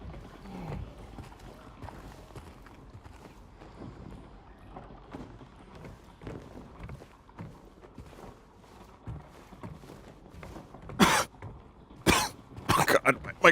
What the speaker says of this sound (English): Oh god, my coughing from doing that.